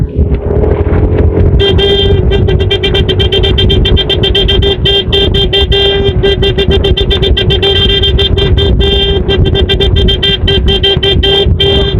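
Loud, close engine drone of a car on the road at a provincial cycling race in the Philippines, joined after a moment by a long run of rapid, repeated horn toots that carry on to the end.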